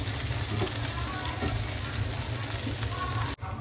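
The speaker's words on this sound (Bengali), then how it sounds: "এখন আমি আস্তে আস্তে ভেজে একটু কালো করে ফেলবো আরও ভাজবো আরও কিছুক্ষণ ভাজবো আমি" Chicken pieces for Bengali chicken jhura fry in a pan until browned and darkening, giving a steady, close broadband sizzle that runs evenly throughout, with a brief soft clatter near the end.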